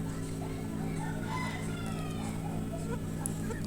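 Native chickens clucking on a poultry farm, a steady crowded background of many birds with occasional calls, continuous and fairly close throughout.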